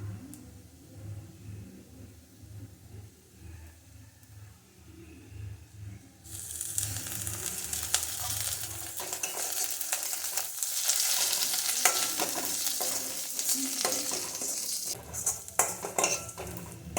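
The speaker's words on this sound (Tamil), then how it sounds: "இந்த வெங்காயம் இந்த அளவுக்கு வதங்கட்டும்." Onions sautéing in a pan for chutney, first a quiet low rumble, then curry leaves hit the oil and a loud bright sizzle takes over, with scraping spoon-and-pan stirring noises throughout, close up and without talk.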